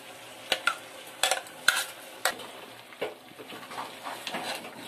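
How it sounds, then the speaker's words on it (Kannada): Ground chili paste being stirred into a fish curry in a pan, with several sharp scraping and clinking strokes against a steady background sizzle of frying. "ಖಾರ ಸೇರಿಸ್ಕೊಂಡ್ಬಿಟ್ಟು ಚೆನ್ನಾಗಿ ಮಿಕ್ಸ್ ಮಾಡಬೇಕು"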